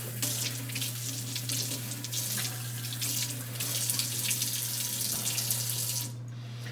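Tap water runs steadily from a sensor-controlled faucet into a sink, a continuous broadband splash under a steady low hum, then cuts off abruptly near the end.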